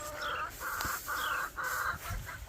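A young button stag rooster in a farm yard gives a few short, repeated clucking calls at moderate distance, steady in rhythm with outdoor background noise.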